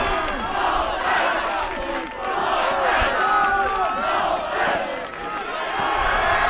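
A big crowd roars and cheers continuously at an American football game between the Bielawa Owls and the Miners, loud and close, with the noise swelling and dipping in waves.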